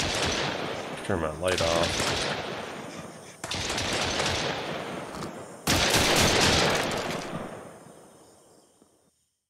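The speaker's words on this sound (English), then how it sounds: "I can sleep with all that shooting going on." Gunfire in the survival game Mist Survival comes in three loud bursts of rapid shots, each fading into a long echoing decay. Someone speaks briefly during the first burst.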